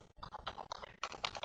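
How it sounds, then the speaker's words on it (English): Keys on a computer keyboard clatter in a quick, uneven burst of close, crisp clicks, with one brief pause partway through. "first I am here typing"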